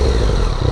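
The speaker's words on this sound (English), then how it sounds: "I'll do like a little rev test for you." Yamaha FZ-09 motorcycle from 2014 on its stock exhaust, a brief loud rev: dense, rumbling engine roar close to the mic, held steady for under a second.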